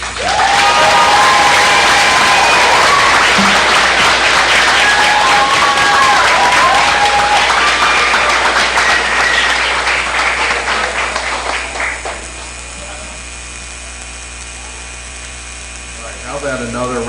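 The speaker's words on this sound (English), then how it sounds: "How about another round of applause for what great professionals we have here in Gloucester Township." Loud, dense applause fills a school board meeting in Gloucester Township for an educator award, with whoops and tonal sounds over it, then it drops off around twelve seconds leaving quieter room noise.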